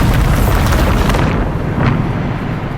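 A Bombarda explosion spell bursts in Hogwarts Legacy, a loud broad blast with a roaring rumble that decays over a few seconds, no talking.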